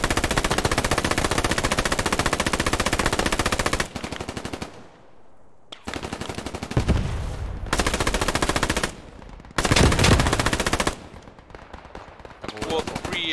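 Rapid machine-gun and rifle fire in the World War II shooter game Post Scriptum, loud, dense and continuous bursts with brief gaps, close to the listener; no voices stand out over the shooting.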